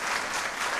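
Loud, dense applause from a large audience at a founder's birthday celebration, a continuous wash of clapping with no gaps through the brief moment.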